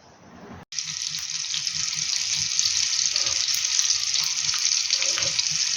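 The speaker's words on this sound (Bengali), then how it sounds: "বাটার আর তেল অ্যাড করে ফ্রাইং প্যানটা গরম হওয়ার পরে কাবাবগুলো ছেড়ে দিয়েছি" Kebabs dropped into a hot frying pan of butter and oil break into a loud, steady sizzle that starts abruptly after a brief quiet moment and continues unbroken, with no talking.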